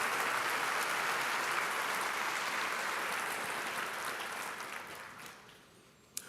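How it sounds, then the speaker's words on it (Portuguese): A church congregation applauds together in a broad, steady wash of clapping that thins out and fades toward the end. "Aplauda o melhor que você puder a Jesus."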